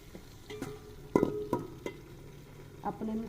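Pieces of pre-fried chicken drop into a pot for chicken pulao, giving a quiet sizzle with scattered clattering knocks and stirring scrapes, a few sharper hits standing out over faint background hiss.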